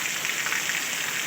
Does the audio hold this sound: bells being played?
no